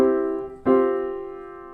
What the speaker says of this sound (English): Or you could do a sus4 that sounds like this